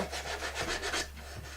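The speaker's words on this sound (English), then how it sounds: "make sure you're dry when you're sanding" Rapid back-and-forth rasping of sandpaper rubbed over painted wood by hand, a steady run of short strokes heard up close.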